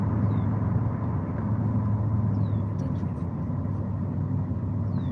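A car engine rumbles steadily from inside the cabin while driving, with a faint, brief turbo whistle rising a few times above the low drone.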